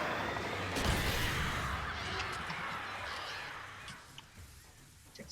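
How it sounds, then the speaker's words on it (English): Crows caw in Alan Wake, harsh calls rising over a loud wash of wind or ambient noise on a mountainside, fading somewhat toward the end. "Birds."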